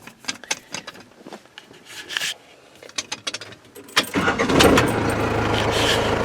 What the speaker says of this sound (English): Truck starts a lot better than it did with the old starter.